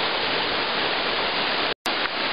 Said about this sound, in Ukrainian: А водоспад досить серйозний